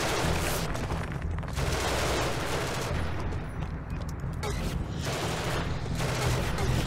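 Sustained gunfire and explosive blasts in the sci-fi game Genesis Alpha One, a dense, steady barrage with low rumbling booms that stays loud and continuous throughout.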